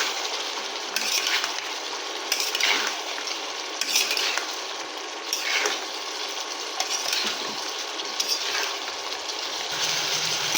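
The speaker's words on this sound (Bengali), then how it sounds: "ভেজে রেখেছিলাম সোয়াবিনটা তুলে নিচ্ছি, দিয়ে এটাকে ভালোভাবে কষে নেব এর সঙ্গে।" Fried soybean chunks are stirred and scraped in a pan, with a steady sizzle and repeated rhythmic scraping strokes from a spatula, close and fairly loud with no voices.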